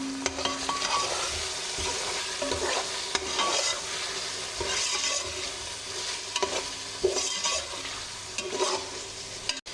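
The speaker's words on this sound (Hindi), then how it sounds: "दो से 3 मिनट इसे फ्राई होने देंगे" Chicken coated in mashed ginger and garlic paste with salt frying in a pan, a continuous close sizzle broken by frequent stirring scrapes and light knocks against the pan.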